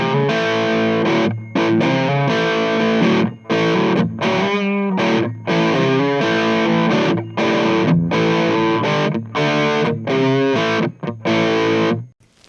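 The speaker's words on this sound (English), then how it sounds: "if you boost that front end, you get a much chunkier sound" Electric guitar played through an amp with a Nowhere Inn boost pedal driving the front end, giving a chunky, distorted tone in dense, loud strummed chords with brief gaps, alone with no talk.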